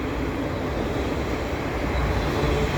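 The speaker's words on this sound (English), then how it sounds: "this is a westbound double stack train with CSX locomotives" A westbound CSX double stack freight train passes beneath a footbridge at Des Sources Boulevard, a loud, steady low rumble and rolling roar of wheels and cars, close and continuous with no talk.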